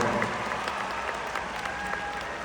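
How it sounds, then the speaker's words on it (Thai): A concert crowd claps steadily for a band, a dense, continuous wash of applause from many hands filling the whole stretch without a break. "ต บมือดังๆให้กับพี่สามคนของเรานะครับ"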